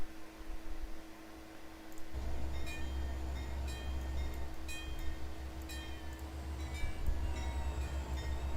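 A freight train moving in the railway simulator game Trainz, a steady low engine drone that picks up after a couple of seconds, with repeated clacking wheel and rail sounds over the rumble, no talking.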